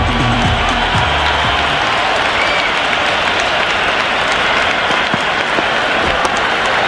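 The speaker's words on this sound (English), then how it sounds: "It's flown into the crowd." A stadium crowd in the cricket video game Cricket 26 roaring and applauding after a big shot flies into the stands, a loud, dense, sustained wash of clapping and cheering throughout.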